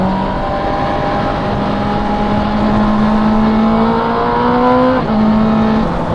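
A Honda CB650R motorcycle fitted with an Akrapovic exhaust and its dB killer baffle revs steadily close by, a loud continuous engine note climbing gradually in pitch with a brief dip near the end.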